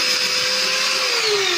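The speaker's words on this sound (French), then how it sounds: "Et après j'appuie pour faire les carottes râpées." A food processor grating apples whirs steadily and fairly loudly, a high motor whine with a slowly falling pitch and a rough grinding layer beneath it, with no voices.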